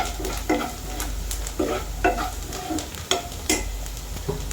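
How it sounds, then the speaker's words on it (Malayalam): Onions and chili powder fry in a pan for a Kerala curry, giving a steady crackling sizzle broken by rhythmic spatula scrapes and stirring strokes roughly every half second, close and fairly loud with no talking. "സവാളയും മുളക് പൊടി കൂടി നല്ല പോലെ മൊരിച്ചെടുക്കുക"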